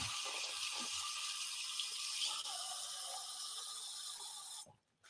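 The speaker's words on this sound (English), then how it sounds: "before you say I'm drinking water out of the faucet, our water is filtered" Water runs steadily from a kitchen faucet into a sink as a bright hiss that lasts several seconds, then cuts off abruptly near the end, close up with faint clicks beneath.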